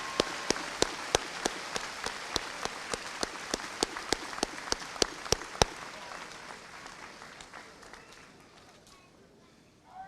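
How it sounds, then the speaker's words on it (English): A high school graduation audience applauds the band and orchestra: a broad wash of clapping with crisp, evenly spaced individual claps on top, gradually thinning and fading toward the end. "can we please have one more round of applause for our band and orchestra"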